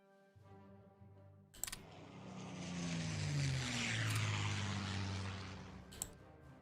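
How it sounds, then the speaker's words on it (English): Long-distance bombers in the World War II strategy game Hearts of Iron 3 fly over northern Italy, a loud, sustained propeller-engine drone that swells in after a brief quiet start and holds steady, with a few sharp clicks on top. "We have more long-distance bombers flying into northern Italy."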